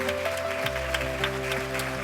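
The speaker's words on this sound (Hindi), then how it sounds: "जोरदार तालियों से इनका स्वागत कीजिए।" Applause from a crowd, steady and moderately loud, with a sustained tone underneath throughout.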